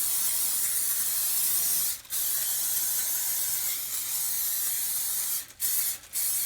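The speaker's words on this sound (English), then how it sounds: "I'm going to go ahead and spray up with some" Cooking spray hisses loudly and continuously onto a spatchcocked turkey, in long bursts broken by a few brief pauses, close to the listener.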